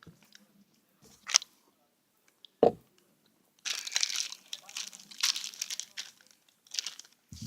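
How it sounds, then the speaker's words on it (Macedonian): Salty crackers are bitten and chewed up close, with crisp crunches and crinkly packet noises in bursts between quiet pauses. "Последни се соленките за денеска."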